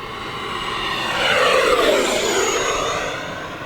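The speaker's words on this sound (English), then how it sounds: "Oh, the coolest sounding jet in the fleet." An E-flite F-18 Blue Angels 80mm EDF RC model jet screams past overhead, its high whine rising and swelling before gradually fading as it pulls away into the distance.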